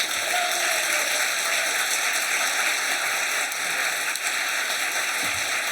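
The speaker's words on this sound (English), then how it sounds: "So please, a massive round of applause to Matt Alt." An awards-ceremony audience at a manga awards event breaks into steady, dense applause that fills the hall, loud and continuous throughout with no pauses.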